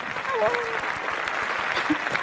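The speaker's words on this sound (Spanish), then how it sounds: "¡Aplausos!" Steady, dense applause from a studio audience greeting guests on a talk show, continuous clapping throughout with faint voices mixed in.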